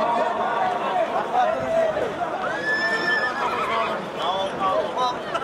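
Horses at a kokpari game whinny loudly several times, with hoof clip-clop and crowd chatter mixed in and people talking throughout.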